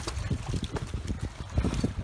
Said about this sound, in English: Now it's a bit windy here,